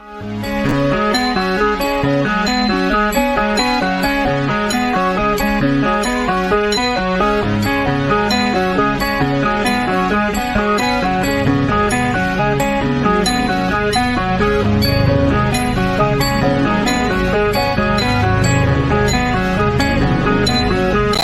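Continuous intro music from the 2016 film Witchcraft 15: Blood Rose, with a steady rhythmic pattern of tonal notes, fairly loud and unbroken, with no voices.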